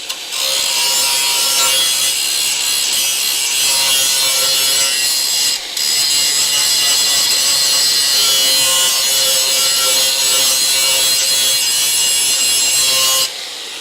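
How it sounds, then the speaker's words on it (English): Angle grinder with a coarse grinding wheel working a steel vehicle frame rail, a steady loud abrasive hiss and whine held almost continuously, with one brief dip midway. "So I'm just gonna get a regular old grinding wheel."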